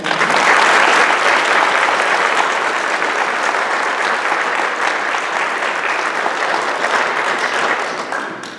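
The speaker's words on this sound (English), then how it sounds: "So if we could just give them a round of applause." A church congregation at a First United Methodist service in Champaign claps in sustained, dense applause, loud and steady for most of the stretch before tapering off at the very end.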